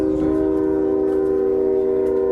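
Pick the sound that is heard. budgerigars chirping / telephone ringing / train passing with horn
train passing with horn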